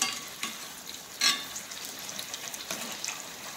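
Green chili fritters dipped in gram flour batter fry in hot oil, giving a soft, continuous sizzle with a few louder bursts of bubbling, close by.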